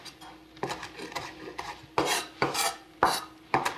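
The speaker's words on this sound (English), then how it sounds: "And then I usually just rough chop them for this salad." A knife rough-chops fresh cilantro leaves on a cutting board for a sprout salad, giving a series of close, crisp rasping strokes in an uneven rhythm with no talk.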